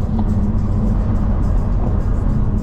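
A loud car engine rumbles and revs steadily through its exhaust, deep and close, with no voices.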